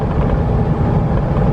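Long, heavy freight train hauled by two diesel locomotives rolling past, a loud steady broadband rumble and roar with no speech over it.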